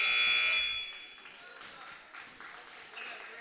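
Buzzer ending the first quarter of a Glenwood vs. Lanett high school basketball game, a loud sustained electronic tone for about a second, then fading into crowd noise and a commentator talking.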